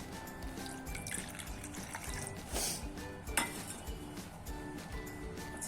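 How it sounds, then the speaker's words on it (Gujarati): Water is poured from a small bowl into a fafda dough mixture, a faint trickle with light clinks of metal utensils nearby. "ત્યારબાદ આપણે અડધી વાટકી પાણી નાખીશું"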